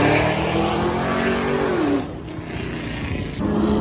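A Lamborghini Aventador engine roars loudly nearby at a car meet, revving up, dipping briefly, then surging again, with a rough, powerful growl.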